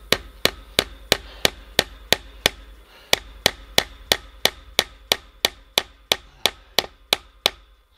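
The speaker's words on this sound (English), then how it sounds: "I'll run another nail in like this to tighten it." Steady hammer blows drive a nail into a wooden fence post while barbed wire is restretched, about twenty-two sharp, evenly spaced strikes, close and loud, with a brief pause near the middle.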